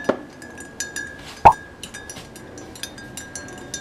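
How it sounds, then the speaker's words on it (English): A spoon clinks against a cup while honey is stirred into hot weight-loss tea, with two sharp chimes standing out among softer, scattered taps in a quiet room. "So now we're just going to stir that up really good, mix it in very well."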